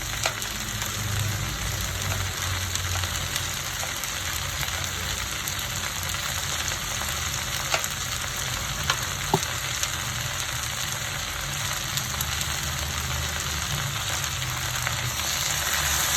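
Chopped okra, tomato and green chillies sautéing in oil, a dense continuous sizzle close by with faint stirring scrapes, steady for the whole stretch and no talking.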